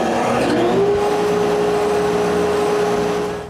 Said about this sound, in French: Et faire démarrer l'aspirateur aussi.